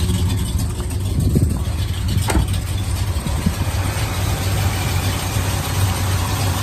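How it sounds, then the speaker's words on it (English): A classic muscle car idles steadily throughout, a low, continuous engine rumble at close range with no talk over it. "Let's take a listen to the engine."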